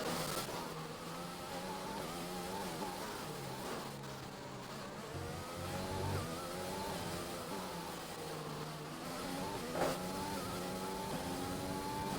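Race cars in an F1 video game driven aggressively, a steady buzzing engine drone with rising and falling revs through gear changes, loud and continuous with occasional brief bumps.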